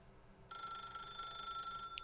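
A telephone starts ringing abruptly partway through in The Stanley Parable, a bright, steady electronic ring held alone after a short stretch of quiet room tone.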